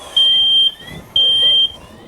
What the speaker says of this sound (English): alarm sounds